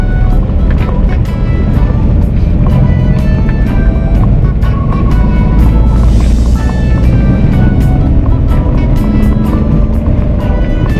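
A manual car engine pulls away in second gear, a loud, steady engine drone with road and wind noise throughout, building gently as it accelerates.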